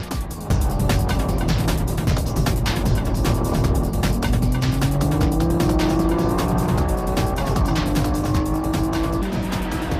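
A Honda NSX-R on slick tires racing on a circuit alongside other cars, engines howling and shifting pitch as they rise through gears, loud and continuous, with tire noise and passing engines layered in.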